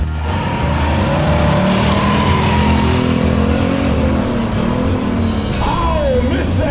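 A drag racing car engine at a race event roars loud and close, with its pitch wavering through a missed shift into second gear and a rising whine near the end.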